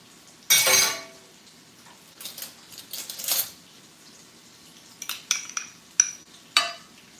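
A large spoon clinks against a plate while a jackfruit salmon-cake dish is plated, with a loud first clatter and then scattered, sharp metallic taps against near silence.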